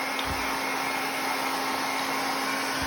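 A dryer runs steadily to dry a chicken, giving a constant loud blowing whir with a steady motor hum and no break, with no talk over it.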